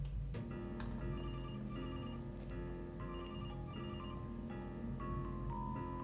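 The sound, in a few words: telephone ringing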